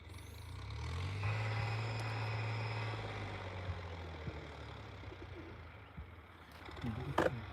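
Pigeons coo softly in low, repeated calls over a steady engine drone that gradually fades, with a few sharper noises near the end.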